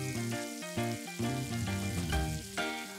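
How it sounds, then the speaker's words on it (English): Meat sears in hot butter and olive oil with thyme and a garlic clove, a steady close sizzle running under louder melodic background music for the whole stretch. "seal the meat on all sides until it's nicely browned"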